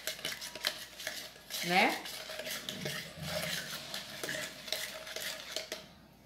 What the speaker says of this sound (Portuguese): Vamos dar uma mexidinha aqui.